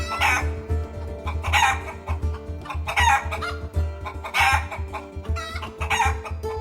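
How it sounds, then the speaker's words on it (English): A hen clucks loudly in repeated bursts about once a second, close and clear over a low steady hum. "She clucked loudly and pecked."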